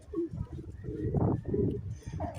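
Bird calling outdoors by the seashore on a fresh morning, a soft cooing or chirping call that recurs over steady low wind and ambient background noise.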